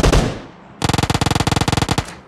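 A loud, close burst of automatic gunfire in the battle royale game PUBG Mobile, a rapid, even string of about twenty shots that follows an earlier single heavy report.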